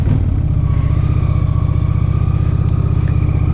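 A Honda Shadow 750 motorcycle engine runs at a steady, even idle, heard close and loud for several seconds with no voices.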